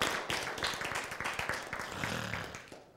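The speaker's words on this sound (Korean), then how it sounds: "박수." Short round of applause from an audience at a Korean lecture on the Bible and science, a quick spattering of claps that fades under a low murmur.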